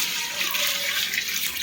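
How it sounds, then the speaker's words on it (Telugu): Water being poured into a pot of chicken dum biryani, a continuous, close splashing rush that stays even throughout. "వాటర్ కూడా వేస్తున్నాము."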